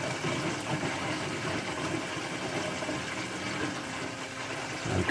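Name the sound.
water gurgling through opened aquarium Herbie overflow siphon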